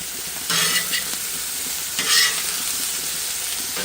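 A sirloin steak seasoned with white pepper sizzling on a griddle, a steady hissing fry that swells in two brief louder bursts, with no speech.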